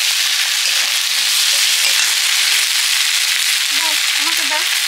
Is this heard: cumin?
yes